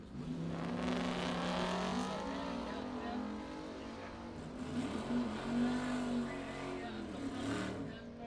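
Drag race cars launching side by side, a Mustang GT and an S10 pickup, engines roaring steadily with rising revs over several seconds, with an announcer talking over the engine noise.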